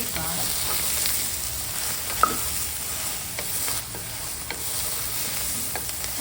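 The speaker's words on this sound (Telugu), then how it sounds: "మనం కట్ చేసుకొని ఉన్న బీరకాయని వేసి వేగించుకుందాం" Chopped ridge gourd sizzles steadily in hot oil in a pan, a continuous close frying hiss broken by a few soft clicks of stirring.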